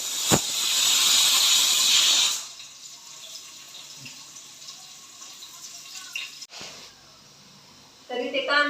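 Chopped onion dropped into hot oil for home cooking, a loud, bright sizzling hiss for the first couple of seconds that then dies down to a much quieter, steady frying with faint clatter.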